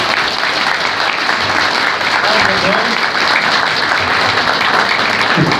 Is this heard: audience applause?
yes